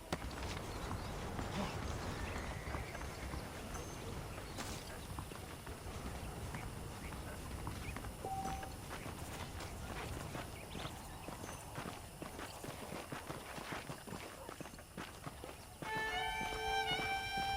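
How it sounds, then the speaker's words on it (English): In the video game Red Dead Redemption, horses walk with steady clip-clopping hooves through a busy, cluttered soundscape. The clopping stays moderately close and continues throughout, with a brief whinny-like sound near the end. "The horses are saddled up over here."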